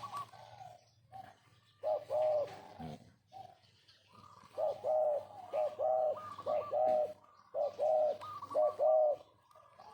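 Pigeons or doves coo in repeated bursts at close range, the throaty calls coming in a loose rhythm of short rolling phrases with brief pauses between, and no talking.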